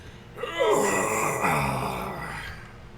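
A human voice imitates a large beast yawning in a tabletop fantasy game session, making a long, low, drawn-out moaning groan that rises and slowly fades over a few seconds.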